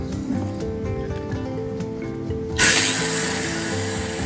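An angle grinder with newly replaced carbon brushes whirs up to a loud, steady high-pitched whine partway through, running continuously after quieter mechanical sounds.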